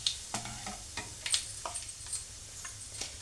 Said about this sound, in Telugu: 1 స్పూన్ ఆవాలు, 1 స్పూను జీలకర్ర. ఇది కొద్దిగా మంచిగా మనకి ఫ్రై అనేది అవ్వాలి